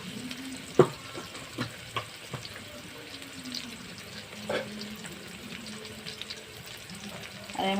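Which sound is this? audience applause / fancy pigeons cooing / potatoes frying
potatoes frying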